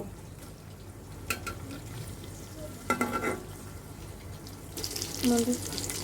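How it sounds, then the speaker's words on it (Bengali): Koi fish frying in oil seasoned with turmeric, chilli and salt, a soft sizzle broken by a few stirring and spatula scrapes and brief clatters, fairly quiet in a home kitchen. "কই মাছগুলো ভাজা হয়ে গিয়েছে এখন আমরা নামিয়ে নেব"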